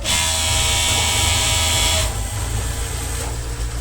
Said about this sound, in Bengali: মেশিনটা আওয়াজ দেয় কোন জায়গায় দেখো তো